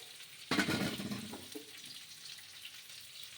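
Washed fish hits hot oil in a pan with a sudden loud sizzling burst, then settles into a steady, softer crackling hiss that continues with no voices.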